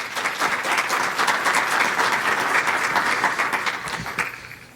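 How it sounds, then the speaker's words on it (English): Conference audience applauding to welcome a discussion panel, a dense, loud, sustained wash of many hands clapping together before fading at the end. "So a round of applause, please, to welcome the panel."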